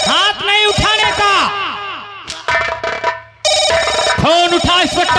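A telephone rings loudly with repeated warbling bell trills, briefly interrupted by shouting voices and crowd noise before the ringing resumes.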